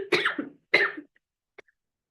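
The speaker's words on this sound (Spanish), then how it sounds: "me dio un ataque de tos" A woman coughs twice in quick, harsh bursts at close range, followed by a small faint throat sound and then quiet.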